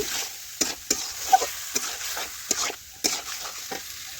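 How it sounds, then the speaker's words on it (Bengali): Prawns are stirred into jackfruit curry in a pan, with a utensil scraping in a steady run of sharp strokes over a soft background sizzle, close and moderately loud, no voices. "চিংড়ি মাছগুলো দিয়ে দিলাম এটাও ভালোভাবে মিশিয়ে নিচ্ছি"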